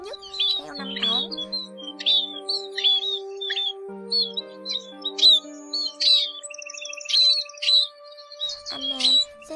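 A rock sparrow lure recording plays repeated sharp chirps and short call phrases in a steady series, clear and close, with sustained tonal notes running beneath.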